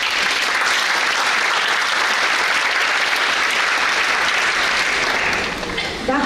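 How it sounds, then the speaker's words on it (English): An audience applauds at a 2024 scholarship award ceremony, dense sustained clapping filling the room for several seconds before starting to taper off at the end. "Let's give her a big round of applause."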